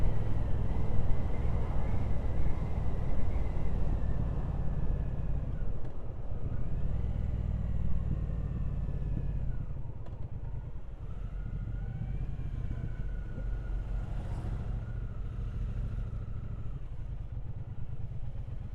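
A 2024 Triumph Speedmaster 1200 cruiser cruising along country lanes, a steady low engine drone mixed with wind rush, with a few gear changes and pitch shifts over a long, fairly quiet stretch.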